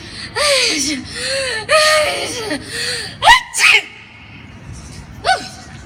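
A voice imitates a sneeze with a drawn-out buildup and a sharp burst, followed by short gasps, among breathy vocal sounds.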